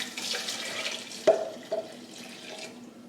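Water poured into a blender container while making a blended drink in a home kitchen, a short splashing trickle with a couple of brief louder splashes, close and fairly quiet, with no talking.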